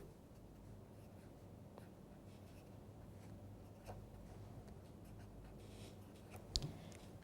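Chalk or marker writing on a board in a statistics lecture hall comes through as faint, sparse scratches and taps over a low room hum, ending with one sharper knock.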